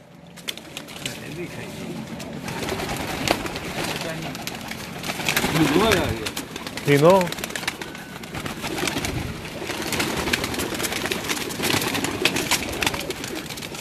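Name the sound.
pigeons cooing in a loft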